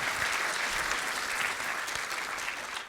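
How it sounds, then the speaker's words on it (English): Audience applause at a live on-stage conversation event, dense sustained clapping from a sizable crowd at full volume throughout, with no voices over it. "maybe do a quick applause"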